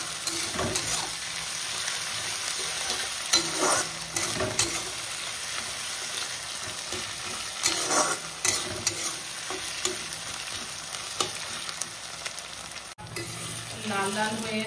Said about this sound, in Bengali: এবারে থ্যাতো করা লঙ্কা আর রসুন এর মধ্যে দিয়ে দিলাম। এটাকে লাল লাল করে ভেজে নেব।